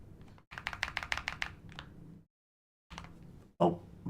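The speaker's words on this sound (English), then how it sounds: "if I come over here and I start typing" Typing on a computer keyboard at a desk: a quick burst of around a dozen close, crisp keystrokes, then silence, then a few more clicks and one louder knock.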